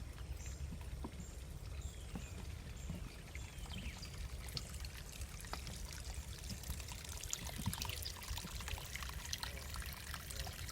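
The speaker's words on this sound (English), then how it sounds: "A little trickle into this first pond." Soft, steady water trickling into a pond in wetlands over a low outdoor rumble, with faint chirps high above and occasional small splashes, no voices.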